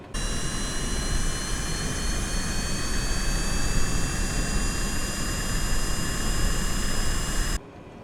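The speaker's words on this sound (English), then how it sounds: "and our engine is now starting. We are running." A Cessna Grand Caravan turboprop engine running in Microsoft Flight Simulator: a loud, steady turbine whine with layered high tones over a broad roar, constant for several seconds before cutting off abruptly near the end.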